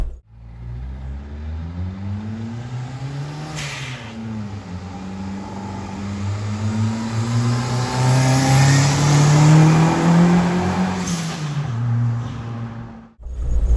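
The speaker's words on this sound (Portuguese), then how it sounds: "só pra ouvir a turbina" Turbocharged Fiat Uno Mille engine revving loudly up and down in repeated rising and falling pulls, close by with a steady strong roar and a brief cutoff near the end.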